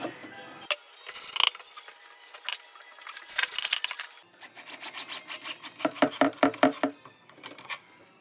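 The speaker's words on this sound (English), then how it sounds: "I'm using this to fasten some hidden screws into the maple accents" A drill drives hidden pocket-hole screws into maple accents, giving short bursts of whirring and ratcheting that speed up into a rapid clattering run near the end, close by with no talking.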